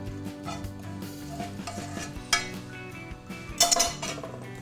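Banana bread batter with pumpkin and poppy seeds is mixed by hand. A utensil scrapes and stirs with soft clinks, and two sharper knocks stand out near the end.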